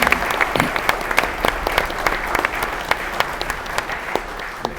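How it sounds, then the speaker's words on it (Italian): An audience applauds an octet and choir of the Treviso alpine troops association at a centenary book presentation, with moderately loud clapping in which many individual claps stand out in an even, sustained ovation. "un applauso anche per loro."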